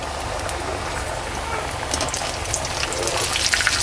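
Crisp vadi pieces frying in hot oil, a steady dense sizzle and bubbling that swells slightly toward the end, with no voices over it.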